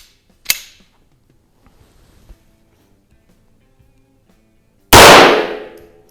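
Two sharp gunshots from a 1920 Reising .22 auto pistol at an outdoor range, several seconds apart, the second much louder and echoing briefly.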